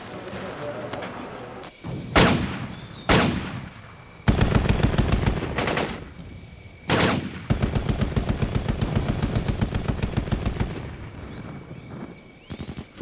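Heavy gunfire during a military assault in Grenada: loud single shots and booming blasts alternating with long rapid automatic bursts, close and intense, while voices are heard amid the shooting.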